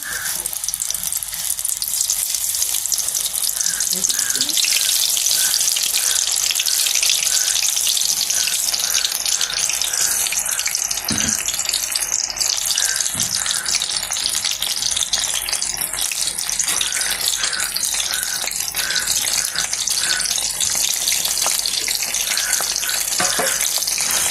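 Meal maker soya chunks frying in hot oil, a loud continuous sizzling hiss with fine crackles throughout, close and without talk.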